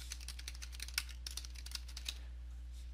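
Quick keystrokes on a computer keyboard in a Windows 10 setup, a short burst of light clicks with a few sharper taps, close and fairly quiet over a steady low hum, no talking.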